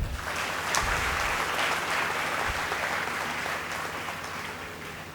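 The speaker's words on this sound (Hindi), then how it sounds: "तो एक बार इस ऐतिहासिक क्षण के लिए जोरदार तालियां" A crowd applauds loudly and steadily, the dense clapping holding for several seconds before easing slightly toward the end.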